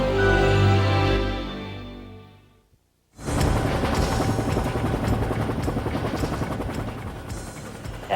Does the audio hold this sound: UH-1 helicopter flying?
yes